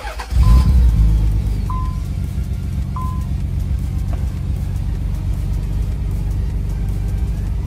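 A Nissan 300ZX Z32 engine starts with a brief surge, then settles into a steady, smooth idle rumble; a few faint high beeps sound early on.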